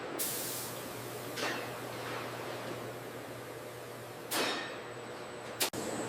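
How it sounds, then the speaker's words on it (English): Broadband hissing bursts of a spray gun applying finish to leather in a factory, a few short sprays over a steady background hum, moderately loud and close. "Spray finishing smooths the surface."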